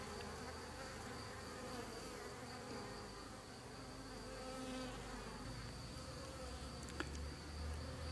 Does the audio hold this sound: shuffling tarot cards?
no